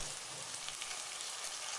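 Prawns frying in a pan with onions and green chillies, a steady dense sizzle that stays even and close throughout with no talk.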